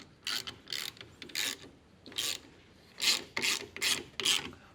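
A socket ratchet clicks in quick bursts while tightening battery connections for a rear-mounted starter battery, with several short runs of close, crisp clicking separated by brief pauses.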